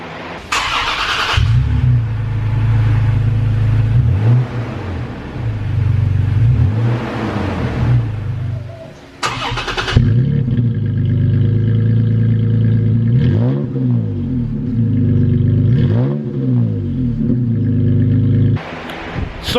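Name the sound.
Toyota Tacoma with MBRP exhaust starting up and revving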